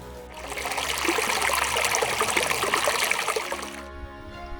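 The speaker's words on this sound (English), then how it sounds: "You see the water dripping here a little bit" A steady, gentle trickle of water dripping in Bryce Canyon National Park in October fills a few seconds, soft and continuous, starting and stopping cleanly.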